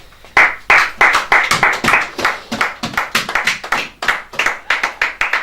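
A church congregation applauding during a French-language service, a close, loud run of rhythmic hand claps in a steady beat that goes on throughout the clip with no talking.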